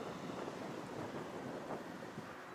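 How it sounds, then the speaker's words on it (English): Wind rushes steadily and faintly ahead of an approaching thunderstorm squall line, a broad outdoor roar with gentle buffeting and no voices. "The wind is coming."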